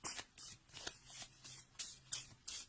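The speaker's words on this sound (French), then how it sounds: "Je pense que je vais devoir couper mon jeu." A deck of fortune-telling cards handled and cut, a quiet, close run of soft papery riffles and slaps repeating about every third of a second.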